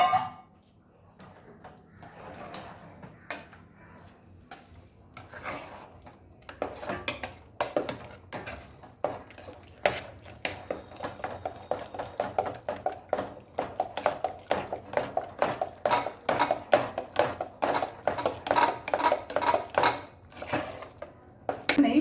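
A metal spoon clinks and scrapes steadily against a pot as a jaggery syrup mixture is stirred for black kavuni rice thiruvathirai kali, starting sparse and building into a quick, regular rhythm of close, bright taps.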